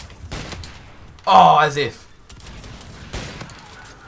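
Gunfire in a Call of Duty match: a few sharp, separate shots spaced across a few seconds, loud and close, with a person speaking briefly in between.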